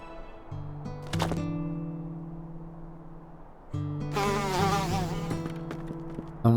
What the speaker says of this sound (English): Alright, we're feeding the bees.